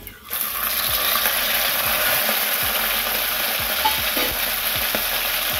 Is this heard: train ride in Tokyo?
no